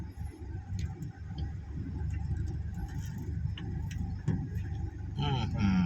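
A 2006 Mazda BT-50 3.0 Di turbo diesel four-wheel-drive pickup with manual gearbox accelerating in second gear in the rain, a steady low engine drone inside the cab with small clicks and rattles as someone talks.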